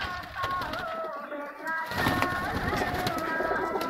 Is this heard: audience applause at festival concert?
no